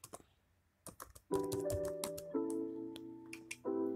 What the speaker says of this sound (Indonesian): Ketikkan password,